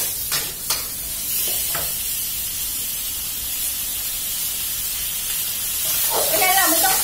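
Crispy squid with fresh chili gets stir-fried in a hot pan. A steady sizzling hiss runs under a voice, with a few spatula knocks near the start and a louder spitting burst at the end.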